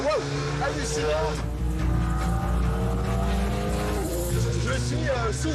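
An Alpine GT4 race car drives on a track, its engine note rising and falling through gear changes, loud and close throughout, with brief tire noise and a voice speaking over it.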